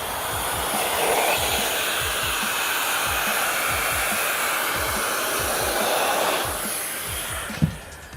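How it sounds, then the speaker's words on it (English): An electric compressed air duster used as a keyboard cleaner blows a loud, steady whooshing stream of air that holds for several seconds, then cuts off with a small click near the end. "we're going to just go ahead and fire this up so we can see exactly how much we can get out"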